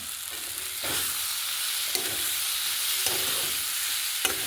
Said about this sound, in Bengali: সয়াবিনটা দিয়ে দিচ্ছে ভাজা সয়াবিনটা